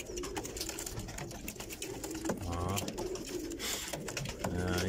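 Pigeons at a Tajik pigeon-breeder's loft give soft low cooing calls that recur against a busy background of rustling, other birds and occasional voices.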